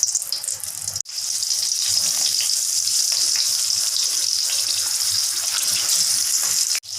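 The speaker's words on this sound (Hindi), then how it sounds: "ये फ्राई हो रही है," Green chillies fry in hot oil with a steady, dense hiss and crackle, close and fairly loud, broken by one brief pause near the start and cut off abruptly at the end.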